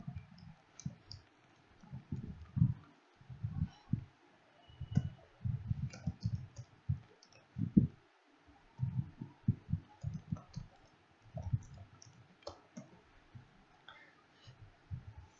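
Soft, rapid keystrokes on a computer keyboard clatter in irregular bursts with short pauses, quiet and close, as a package name is typed into a Java project; no talking.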